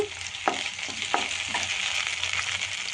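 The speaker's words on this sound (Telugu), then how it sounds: "ఇలా ఫ్రై చేసుకోవాలి" Onions with ginger garlic paste fry in a pan for a rajma curry, a soft steady sizzle broken by a few sharp scrapes and clinks of a spoon stirring, close and fairly quiet with no talk.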